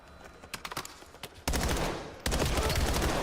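Bursts of automatic gunfire in a Call of Duty match: a few scattered sharp shots are followed by two loud, sustained volleys of rapid fire, with keyboard clicks faint in the mix.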